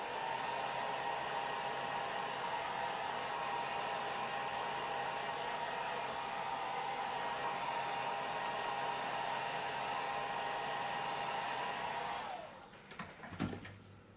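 A hair dryer runs loud and steady for about twelve seconds while drying a transfer on a pumpkin, then switches off and winds down, followed by a few faint handling knocks.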